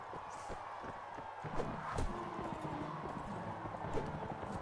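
Horse hooves clip-clop in the video game Mount & Blade, a steady, moderately loud patter of hoofbeats under a noisy battle ambience.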